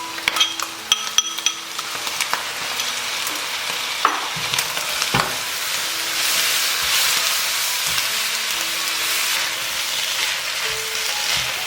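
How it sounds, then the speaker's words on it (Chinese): Beef offal stir-fried in a wok with cooking wine and sauce, a steady loud sizzle throughout, punctuated by scraping and clinking of the spatula against the pan. "接着加入牛杂， 炒香了之后淋入料酒， 加入料汁，继续翻炒"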